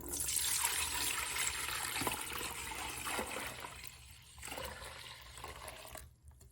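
Warm water splashes and trickles into a basin for washing used yarn, a continuous close, fairly quiet pouring sound that fades toward the end.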